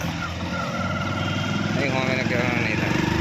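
Motorbike engine running nearby on the way to a canal, a steady close putter with rhythmic pulsing that holds throughout, with voices talking over it.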